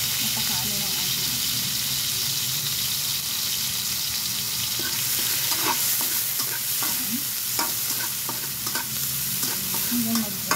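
Salmon frying in a pan for afritada sizzles steadily, with scattered clinks and stirring scrapes over a constant crackle, close and moderately loud.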